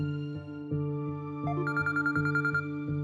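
A phone call rings out with an evenly pulsing electronic ringback tone, close and clear, with a brighter melodic burst toward the end and no voices.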